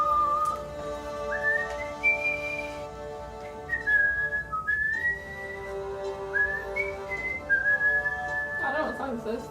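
A person whistles a melody close to the microphone, a continuous string of bright sliding pure tones with short pauses between phrases, over faint room noise.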